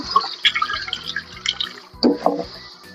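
Vegetable leaves are rinsed in a basin of water, with soft close splashes, drips and light sloshing in irregular bursts, no voices.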